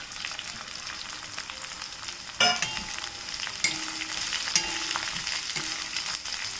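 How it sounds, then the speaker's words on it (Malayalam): Three sliced onions saute in hot oil in a pan, a steady close sizzle broken by a few sharp scrapes and clinks of a spoon stirring, with no voices. "ഈ സവോള ഇട്ട് വഴറ്റി കൊടുക്കാം."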